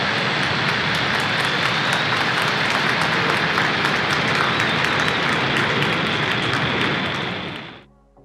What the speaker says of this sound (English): Engines full power and liftoff of SES mPOWER.